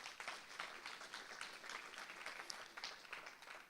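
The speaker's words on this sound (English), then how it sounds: "Round of applause, please." A conference audience applauds: a dense, faint patter of many hands clapping at once, steady for a few seconds before thinning out.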